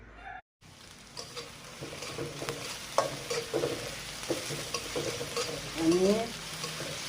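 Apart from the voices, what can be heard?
frying green chili, onion and garlic in a pan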